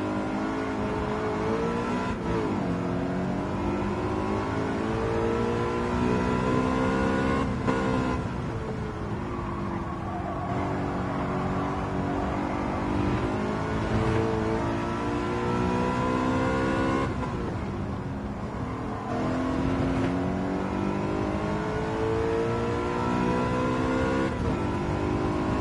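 A BMW race car engine in Gran Turismo 7 revs hard and loud, climbing repeatedly through the gears with drops at each shift, a continuous close racing whine.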